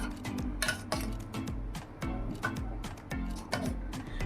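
A spoon stirs a melting neem soap mixture in a pot, giving repeated clinks and scrapes in a steady rhythm, close and clear with no talk.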